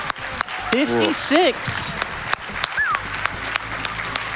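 Crowd applause at a Games Done Quick speedrun marathon event after a Sonic Adventure run, a broad clapping wash mixed under an announcer's voice and other chatter.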